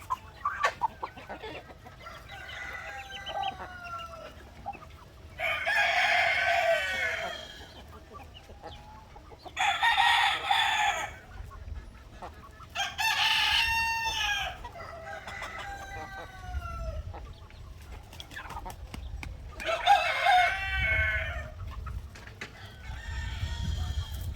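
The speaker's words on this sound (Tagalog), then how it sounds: "ito mga native na manok itong dalawa" Native Filipino roosters crow several times in long rising calls, with native hens clucking softly in between, close by and fairly loud against a quiet yard.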